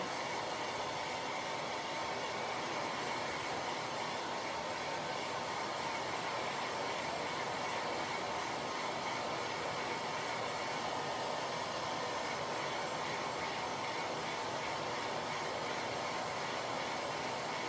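Steady, loud whooshing roar of a fairly low-powered hair dryer running without a break, no voices.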